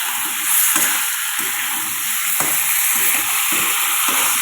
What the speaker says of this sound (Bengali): এর সাথে পনিরটা দিয়ে দিচ্ছি, দিয়ে ভালো করে কষাবো সব কিছু দিয়ে